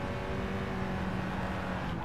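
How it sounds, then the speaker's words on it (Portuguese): Honda Integra Type R DC2 driven on the Nordschleife in Gran Turismo 7, giving a steady, sustained engine drone at moderate volume with no talking over it. "vocês vão ouvir o ronco do Honda"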